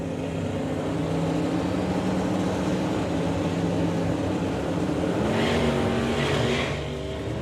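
Drag racing cars, including a Mustang in the slick tricks lane, roar loudly and continuously at a Summer Nationals meet, engines revving hard with a sustained, dense roar.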